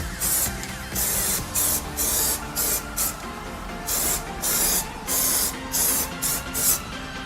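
Aerosol rust-protection coating sprayed onto the fan blades of an AC unit in a run of short hissing bursts with brief pauses between them, close and fairly loud, no talking.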